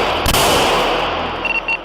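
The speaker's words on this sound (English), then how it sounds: "Shots fired." A sharp, loud gunshot from police officers cracks close by and rings out, followed by fading echo and faint clatter, with no voices.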